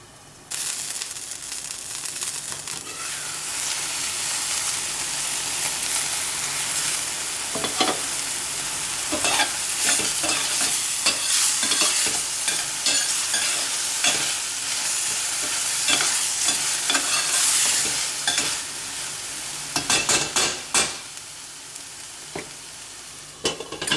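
An Indian keto egg curry cooks in a covered pan with onions and tomatoes, giving a steady loud sizzle and hiss broken by repeated scraping stir strokes and clatter, louder and busier toward the end.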